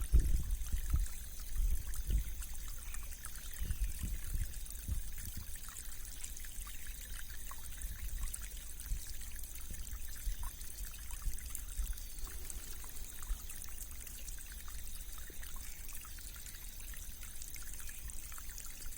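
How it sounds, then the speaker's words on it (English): A natural stream flowing steadily, with a continuous gentle trickle and babble of water close by, running alone without any voices. "relax and merge with the flowing aspect of this water."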